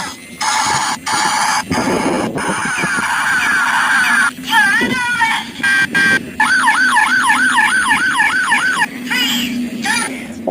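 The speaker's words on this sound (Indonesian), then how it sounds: "Ini ada mobil polisi juga ya." A toy police car plays electronic siren sounds, switching between a wailing tone, rapid warbling yelps and honk-like bursts, loud and close with short gaps between patterns.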